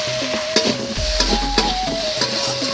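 Potatoes stirred in oil with salt, turmeric and chili powder, a crackling sizzle with rhythmic scraping strokes and a few pan knocks, close, with a steady tonal hum running underneath.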